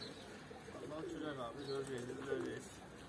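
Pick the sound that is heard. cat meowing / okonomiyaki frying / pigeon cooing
pigeon cooing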